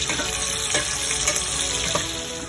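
Bacon bits browning and crisping in a pan ahead of rabbit cooking, a continuous close crackling sizzle with a couple of faint stirring scrapes, no voices.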